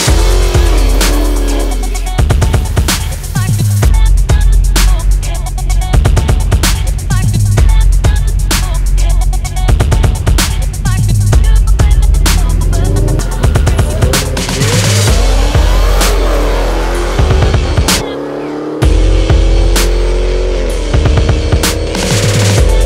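A Dodge Hellcat with a Diablo 93-octane tune accelerates down a drag strip, a loud, close engine roar climbing in pitch through sustained pulls, with a brief drop near the end before it revs up again.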